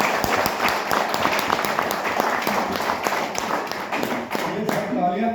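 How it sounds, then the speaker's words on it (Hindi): An audience at a lecture on India's freedom movement claps steadily, with sharp individual claps rising through the crowd noise as people talk over the applause before it thins out. "ये सब तालियां इनकी है"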